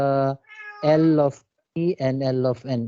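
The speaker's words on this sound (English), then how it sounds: "that's my cat" A house cat meows repeatedly, close and clear, with several drawn-out tonal cries broken by a short pause, heard indoors during a physics lecture while a voice talks briefly over it.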